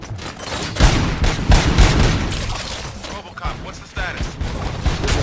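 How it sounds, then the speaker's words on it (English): Gunfire in the Robocop Rogue City video game: a dense, loud fusillade of overlapping shots and booms with mechanical clatter, continuous through the stretch with brief lulls. "Gunshots? What's going on?"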